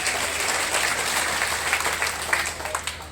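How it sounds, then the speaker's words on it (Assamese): An audience at a school building foundation event claps together in sustained, dense applause that stays fairly steady throughout. "এটা ডাঙৰ হাত চাপৰি বজাই দিব"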